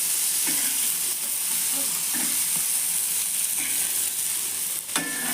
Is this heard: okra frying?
yes